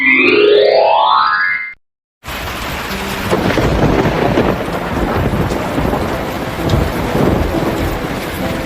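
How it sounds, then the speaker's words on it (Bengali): A cartoon thunderstorm: a short synthetic musical sweep, a brief gap, then a loud, steady wash of heavy rain with low rumbling thunder rolling underneath. "বাইরে কি জোরে জোরে বিদ্যুৎ চমকাচ্ছে আচ্ছা মা এই বৃষ্টিতে বন্যা হবে না তো"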